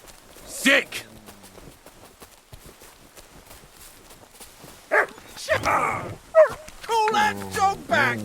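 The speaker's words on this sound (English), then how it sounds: "Call that dog back!" Dog in Kingdom Come Deliverance 2 barking and scuffling near a horse's hoofbeats, sharp barks breaking through loud, agitated shouting voices.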